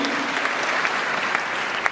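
An audience claps steadily and continuously, a dense wash of many hands with no break and no voices.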